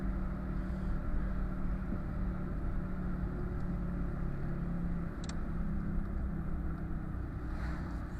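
Continuous close engine drone and road rumble from inside a car driving between Tiszakeszi and Ároktő in Hungary, with a rattling exhaust adding a rough buzz under the steady noise.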